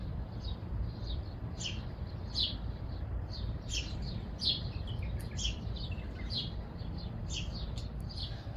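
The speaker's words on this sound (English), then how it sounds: "there's a bird just up there, it's chirping" A small bird chirps repeatedly in quick, high bursts at sunrise in Al Raed, Riyadh, over a steady low rumble, the calls coming in an irregular rhythm throughout.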